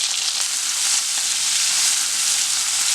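Chopped small onions fry in oil with mustard and garlic, giving a loud, dense, even sizzle that holds steady throughout without talk.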